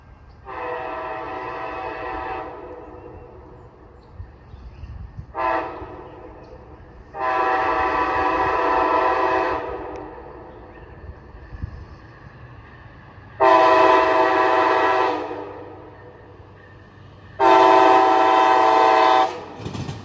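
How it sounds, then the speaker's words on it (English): An Amtrak Northeast Regional train led by a Phase 7 ALC-42 locomotive passes on a rainy day. It sounds four loud, sustained horn blasts, the last two longest and nearest, over a low rumble of the passing train. "here comes my final catch of the day, a Northeast Regional with a Phase 7 ALC 42 leading."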